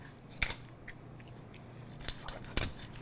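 Kitchen shears cut the spine out of a spatchcock chicken: a few sharp crunching snips through bone, spaced apart over a quiet room background, close and fairly soft.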